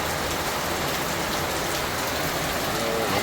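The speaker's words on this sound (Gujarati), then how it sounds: "અત્યારે પણ વરસાદ ફરી પાછો ચાલુ થઈ ગયો છે" Steady rain falls on a residential street during an evening shower, a dense even hiss of drops on surfaces that holds throughout with no pauses.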